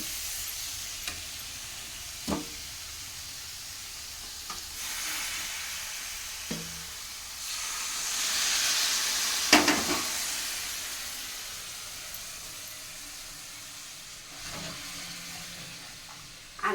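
Brinjal and prawns sizzle steadily in a hot pan, a soft continuous hiss rising and falling with occasional stirring clinks and taps, close by and fairly quiet.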